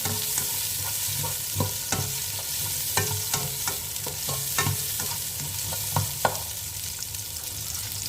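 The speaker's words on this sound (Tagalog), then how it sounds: "ilagay na natin ang onion" Onion sizzles steadily in a hot pan for a meat and vegetable dish, with a continuous crackling hiss broken by scattered clicks and scrapes of stirring.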